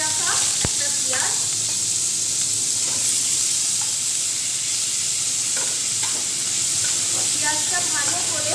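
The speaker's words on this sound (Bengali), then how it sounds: "পেঁয়াজটা ভালো করে ভাজা করে নেব, যাতে পেঁয়াজের কাঁচা গন্ধটা না থাকে।" Chopped medium onion frying in a pan with a little cumin seed for a rajma curry, a steady close sizzle with occasional stirring scrapes throughout.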